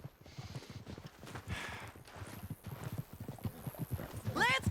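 Horse hooves clip-clop at a steady walking gait in the video game Red Dead Redemption 2, with faint voices and a rising whinny-like cry at the end.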